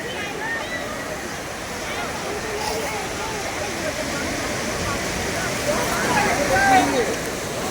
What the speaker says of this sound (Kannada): ಓ, ಅಲೆಗಳು ಮಾತ್ರ ದೊಡ್ಡ ದೊಡ್ಡ ಅಲೆ ಬರ್ತಾ ಇದ್ದಾವೆ